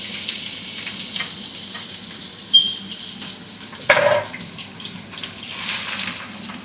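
Sliced onions dropped into hot ghee and oil in a pan, a steady crackling sizzle with a couple of sharp bursts and stirring clatter, close and alone without talk.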